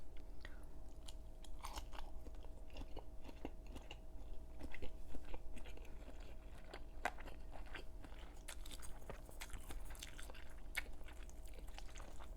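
Close, wet chewing of a meatball in pork wonton egg noodle soup, with soft crunches and bites coming in an uneven rhythm and no talking.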